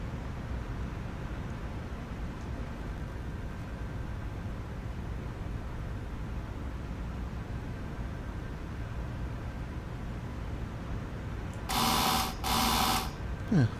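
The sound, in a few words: train door buzzer in video game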